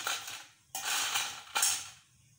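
Crispy homemade rice murukku snapping, three sharp crackling breaks spaced roughly evenly, each followed by a brief crunchy rustle, close and clear with no talk.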